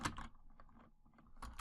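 Quiet, close-up clatter of keys on a computer keyboard, a short burst of quick keystrokes with a brief pause in the middle, alone without talk.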